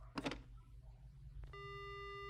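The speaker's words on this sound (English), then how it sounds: "The only sound I hear is the dial tone" A steady telephone dial tone in the horror game Spirit Hunter: Death Mark starts after a short clatter of the receiver being picked up, humming on alone and unbroken at moderate volume.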